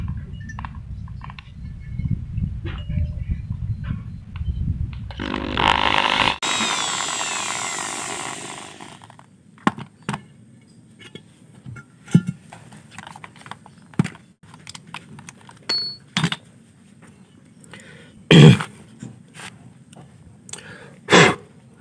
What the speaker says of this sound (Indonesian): Langsung proses ke pengeboran.